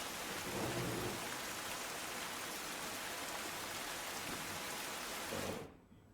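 Heavy rain pours in Kapadvanj, Kheda, Gujarat, in a loud, unbroken roar with deep thunder rumbling underneath, then cuts off abruptly near the end.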